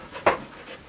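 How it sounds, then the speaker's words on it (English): Pet dogs indoors give one brief, breathy pant, close by and fairly soft, lasting under a second. "Sorry, my dogs are interrupting."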